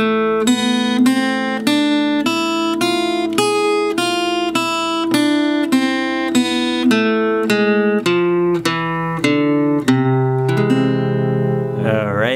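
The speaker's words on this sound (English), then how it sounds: "if we also augment the major scale, meaning raise its 5th scale interval up 1/2 step, we end up with a scale that has a very exotic, almost Eastern sound" An augmented major scale with a raised fifth, played on guitar as a steady run of about fifteen clean single notes, each ringing into the next at an even pace, with no talking.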